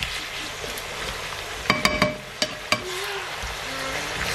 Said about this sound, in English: So let's just fry it a little bit longer